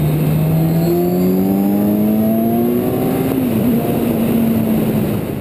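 A 2014 Kawasaki Z1000 four-cylinder motorcycle engine pulls hard under acceleration, its loud, steady howl climbing in pitch through the gear, with a brief dip near the end before it keeps rising.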